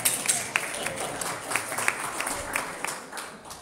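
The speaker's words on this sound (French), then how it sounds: "On applaudit Martin" Congregation applause at a Sunday church gathering, a moderate room of scattered hand claps with sharper individual claps standing out, fairly steady for a few seconds.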